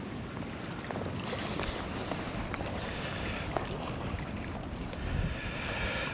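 Wind blows steadily across a lakeside fishing spot at a Rustavi park shore-fishing tournament, a constant rushing roar with rough gusts buffeting the microphone and no speech.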